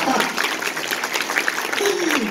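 Audience applause at a wedding, a lively patter of many hands clapping, mixed with voices throughout.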